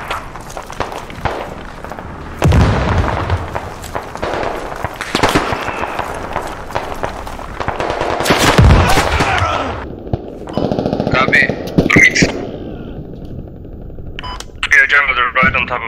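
Gunfire in the military shooter Squad: rapid automatic bursts and single shots, loud and close, mixed with footsteps and frequent talk between players.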